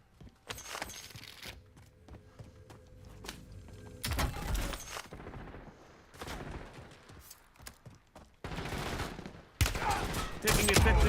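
Bursts of gunfire in a Warzone gulag fight, sharp shots and rapid volleys coming in clusters, loudest near the end, with quieter clatter between.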